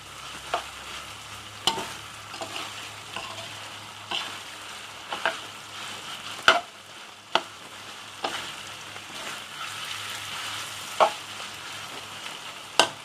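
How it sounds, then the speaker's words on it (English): Pork rendang being stir-fried with turmeric leaves in a pan: a steady oily sizzle broken by repeated scraping and clacking spatula strokes at irregular intervals, close and moderately loud, with no talking. "Perfect with the turmeric leaves. Stir fry it for a while."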